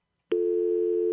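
A telephone busy signal on a call, a loud, steady electronic tone that starts abruptly and holds without a break.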